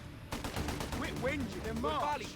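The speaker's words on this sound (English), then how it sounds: "So we're going to start opening fire." Rapid gunfire from the WWII strategy game Company of Heroes 3, a dense burst of repeated shots that keeps going under a voice talking over it.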